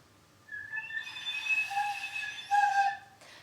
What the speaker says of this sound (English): if your sound isn't coming out, it could be because you're blowing too little